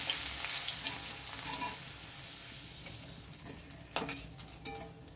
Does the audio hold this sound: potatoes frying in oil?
yes